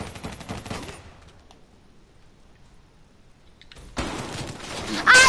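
Rapid automatic gunfire in a first-person shooter video game comes in bursts, first at the start, then a quiet gap, then a loud renewed burst near the end.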